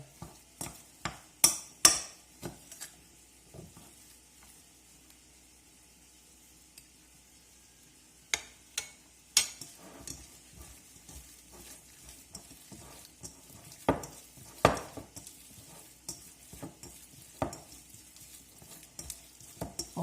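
Minced chicken is mixed with chopped dill, heard as a run of close, sharp clicks and wet scraping taps of a utensil against a bowl, clustered at the start and picking up again later.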